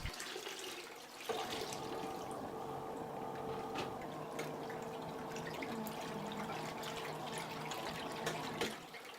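A small mini washing machine running its timed wash cycle on soapy clothes, a steady motor hum with sloshing water that holds for about seven seconds and then cuts off, with no talking.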